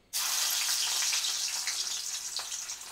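Garlic hits hot oil for Malvani prawn masala, a sudden loud, steady hiss and sizzle that starts abruptly, close by and alone, with no talk.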